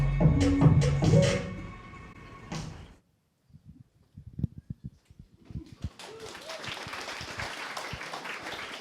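An audience at a Glug London event breaks into moderate applause after a short musical passage and a lull of scattered knocks, the clapping building into a steady patter that runs to the end.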